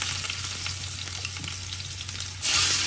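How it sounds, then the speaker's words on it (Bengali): Onions hitting hot oil in a pan for a tuna curry set off a steady, close sizzle that surges louder and brighter near the end, with no talking. "দেখি আমার হচ্ছে তেলটা গরম হয়ে গেছে। এদিকে পেঁয়াজ দিয়ে দিলাম"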